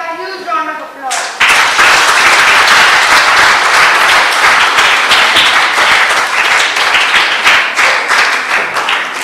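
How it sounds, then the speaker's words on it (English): An audience at a Toastmasters youth leadership event breaks into loud, sustained applause after a brief moment of talk, clapping dense and steady for several seconds. "may I call upon our young leader, Ibrahim, with a huge round of applause."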